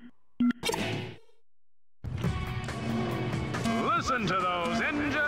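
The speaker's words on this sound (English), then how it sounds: "Listen to those engines rumble!" Combat racing cars rumble and whine in the video game Jak X: Combat Racing, engines revving with rising and falling pitch after a brief clack and a short silence, loud and close with some speech over them.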